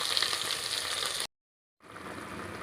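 Steady close sizzling as ingredients, eggplant among them, fry in a pan for horse gram curry, broken by a brief cut to silence before the frying hiss resumes.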